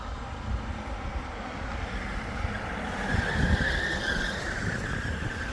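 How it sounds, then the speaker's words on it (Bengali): Vehicle engines hum and rumble as cars descend a hill road, swelling slightly midway as a car passes, heard at a moderate distance without speech. "পাহাড় থেকে কিভাবে গাড়িগুলো নামতেছে"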